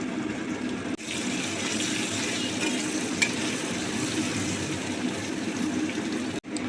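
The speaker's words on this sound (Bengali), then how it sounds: "এবার আলুগুলো ছেড়ে দেব" Potatoes sizzle in hot oil and butter with bay leaf, whole garam masala and cumin in a pan, a loud steady frying hiss with a light stir midway and no talk.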